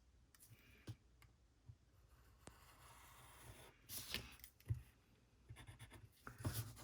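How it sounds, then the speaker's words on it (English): A pen is drawn along a ruler to mark a line of best fit, leaving faint scratchy strokes and light taps, very quiet and close with no talk. "now I'm just gonna take a ruler and draw the line that best fit in"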